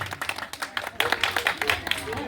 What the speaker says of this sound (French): Applaudissez pour les parents d'élèves